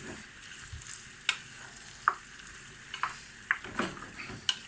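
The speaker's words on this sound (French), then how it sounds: "Et mes tomates. Je remue." Tomatoes frying in a pan with garlic for a felfel dish, a steady close sizzle broken by several sharp scraping stirs of a utensil at irregular intervals, with no talking.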